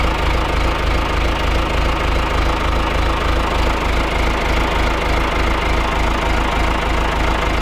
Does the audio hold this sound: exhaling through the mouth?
no